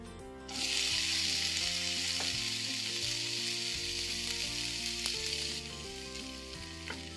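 Spices roast and sizzle loudly in a pan for a mutton keema ball curry, a steady bright frying hiss starting after a brief quiet moment, continuous and close, with faint soft background music tones throughout.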